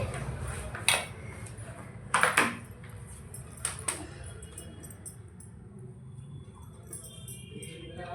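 Snack ingredients being mixed in a pot for an evening snack, giving a few sharp metallic clinks and scrapes of utensil against the pot over low kitchen background noise, with no talking.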